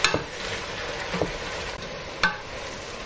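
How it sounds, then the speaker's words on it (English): Celery and capsicum sautéing in a pan for spaghetti bolognese, an even sizzle broken by a few stirring scrapes and utensil taps, fairly close with no talk. "we're gonna saute that off for approximately 2 to 3 minutes."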